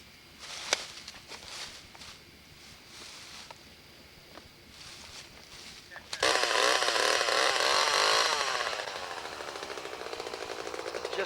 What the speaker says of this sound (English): I got my chainsaw.